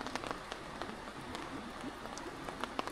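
Heavy rain pours steadily onto a surface during a typhoon, a dense even hiss with scattered drop impacts, close and continuous with no talking.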